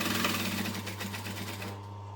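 Sewing machine stitching fabric while making a snap-together fabric bowl, a steady fast motor whir with rhythmic needle pulses running near and continuous, then cutting off abruptly near the end.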